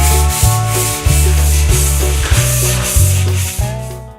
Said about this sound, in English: We did a lot of sanding